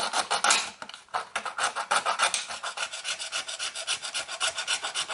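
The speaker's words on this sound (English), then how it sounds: "I'll just use my trusty X-Acto saw" A thin-bladed X-Acto razor saw cuts with quick, close raspy back-and-forth strokes. The strokes come in an even rhythm and are heard alone.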